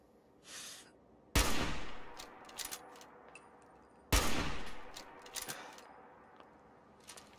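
Pistol shots in the video game Fallout 4: two sharp, loud cracks a few seconds apart, each followed by a decaying tail, with scattered smaller clicks and thuds in between.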